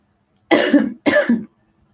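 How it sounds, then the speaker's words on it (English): Two harsh, raspy smoker's coughs in quick succession, close and loud, each with a rough, phlegmy rattle, surrounded by silence. "I got that smoker's cough going on."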